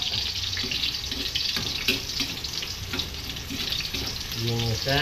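Ginisa sautéing in a pan, a steady broadband sizzle with scraping stirs and a faucet-like watery rush throughout, ending in a brief low hum.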